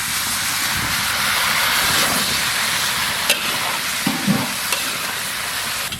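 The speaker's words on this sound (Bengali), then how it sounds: "এবার আমরা ফুলকপি দিয়ে কষাবো।" Cauliflower stir-fried with potato, green chillies and salt in a pan, giving a steady loud sizzle with occasional scraping stirs and clinks, no talking.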